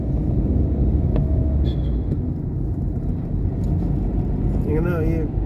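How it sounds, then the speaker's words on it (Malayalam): A Bharat Benz tourist bus passes on a national highway between Ernakulam and Kolenchery, a steady low engine and road rumble close by, with a brief horn-like tone near the end while someone talks over it. "ഏത് ടൂറിസ്റ്റ് ബസ്സാണെന്ന് തോന്നുന്നു, ഭാരത് ബെൻസിൻ്റെ ടൂറിസ്റ്റ് ബസ്സാണ്"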